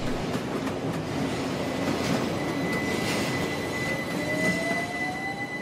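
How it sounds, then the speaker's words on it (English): A train runs on London's North London Line with a steady rumbling roll, faint clickety-clack and a thin rising wheel squeal, heard fairly close and alone without voices. "Trains leave Fenchurch Street under a covered way."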